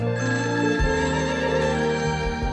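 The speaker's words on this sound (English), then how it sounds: "The phone is ringing." A telephone rings repeatedly with a bright electronic trill, loud and close, over a low droning music bed.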